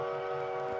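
A steady, tonal train horn in the video game Dead Rails blares briefly and loudly, a sustained chord-like tone with no voices.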